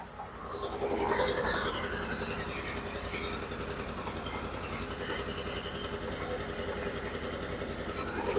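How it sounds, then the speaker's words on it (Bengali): At a brick kiln at night, a generator drones steadily with a rapid mechanical chug and a constant hum, fairly distant and unbroken throughout. "জেনারেটরের শব্দ পাচ্ছেন"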